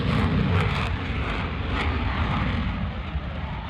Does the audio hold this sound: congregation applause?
no